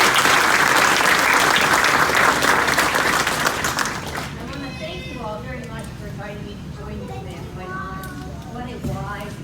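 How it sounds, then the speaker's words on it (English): An audience claps loudly and steadily for about four seconds, and the applause then fades as a voice starts speaking. "We welcome her with a round of applause"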